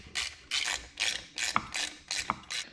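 Ratchet clicking in quick repeated bursts while tightening Allen head screws on a BMW K1200 motorcycle during clutch work, close and steady with a few sharper clacks.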